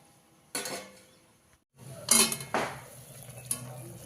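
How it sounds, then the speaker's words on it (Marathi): A metal plate set as a lid on a pot of cooking village-style chicken rassa gives a few loud metallic clanks and clatters, close up, separated by quiet gaps and light kitchen hiss. "याच्यावर मी थाळी ठेवते आणि आपण शिजवून घेऊया।"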